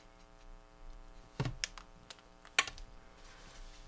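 A brush marker cap pops off with a sharp, close click, followed by a couple of lighter plastic clicks and taps in an otherwise quiet room.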